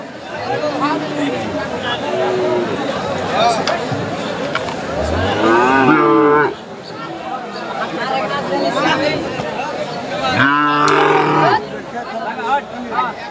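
Holstein Friesian cattle at a busy livestock market let out several loud, drawn-out moos, two standing out clearly near the middle and end, over constant crowd chatter and talking.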